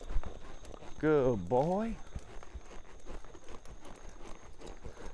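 Horse hooves clip-clopping in a steady walking rhythm as the rider works a half pass lateral exercise, the footfalls faint and continuous beneath a voice and a short harmonic vocal sound.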